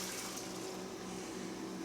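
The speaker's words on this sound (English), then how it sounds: "Just strain off the water in a bowl." Water is drained off cooked corn from an electric pressure cooker into a bowl, producing a faint, steady rushing trickle. It continues evenly for the whole moment, heard alone without talk.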